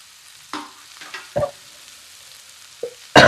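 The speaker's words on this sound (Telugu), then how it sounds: "మన ఆనపకాయ వేసుకుందాం. దీన్ని కూడా ఫ్రై చేసుకుందాం." Bottle gourd dropped into a pan of frying onions, heard as a few separate close scrapes and clatters of stirring over a quiet sizzle, ending with a sharp loud clank.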